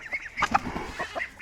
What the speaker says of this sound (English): Look at the ducks, the baby ducks.